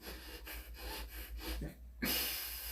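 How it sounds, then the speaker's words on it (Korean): Quick, rhythmic breaths through the nose during exercise, close up, about half a dozen short puffs followed by a longer, stronger rush of air. "진짜 숨이 차도 무조건 코로 쉬어요"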